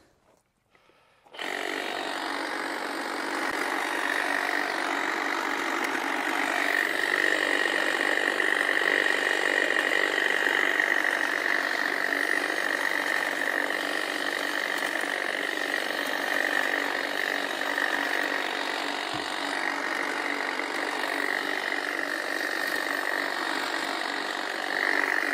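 A powered hedge trimmer cuts through a barberry shrub in a fall garden, a steady, loud buzzing drone that starts abruptly and runs unbroken close by, with no talk.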